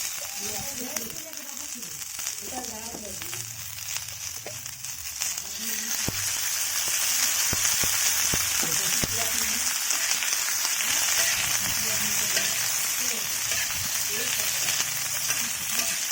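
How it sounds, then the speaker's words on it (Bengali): Sliced onion and capsicum hit a hot pan for chicken rolls and sizzle loudly, a steady hissing fry that swells after a quieter start, with occasional stirring clicks and some talk early on. "এবার আমি কড়াইতে চাটুতে পেঁয়াজ আর ক্যাপসিকাম দিয়ে দিচ্ছি"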